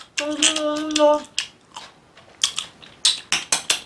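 Close, wet chewing and crunching of kimchi with garlic in quick irregular bites, with a brief hummed tone near the start and no talking.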